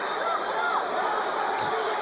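Spectators at the women's 67 kg taekwondo gold final of the Baku 2015 European Games keep up a steady, dense roar of cheering, with a commentator's voice running over the noise.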